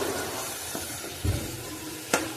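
Hot spice tempering sizzles over homemade dosa batter of soaked lentils and rice with tomato-garlic paste, a steady close hiss broken by a couple of faint clinks.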